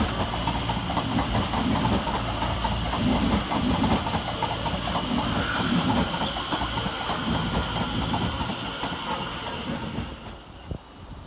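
London Northwestern Railway class 350 multiple units 350-408 and 350-107, arriving from Tring at London Euston station, rumble in close and loud with continuous rail clatter and engine drone, easing slightly toward the end.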